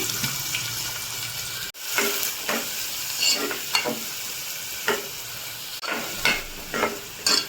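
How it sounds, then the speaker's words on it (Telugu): Chopped onions fry in a pan with cumin and asafoetida while being stirred, giving a soft sizzle broken by repeated spoon scrapes and clinks, close up with no talking. "ఆనియన్ అంతా ఫుల్ మగ్గే వరకు బాగా కలుపుకుందాము"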